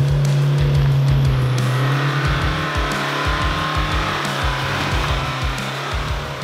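Car engine revving hard and accelerating up a muddy hill climb, loud and close, its pitch rising then falling in pulsing bursts as the wheels scrabble for grip.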